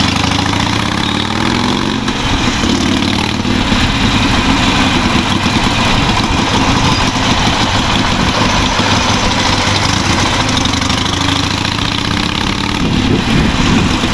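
A loud Harley-Davidson Iron 883 cruiser motorcycle engine idles and rumbles steadily throughout, with a deep throbbing exhaust and no talking.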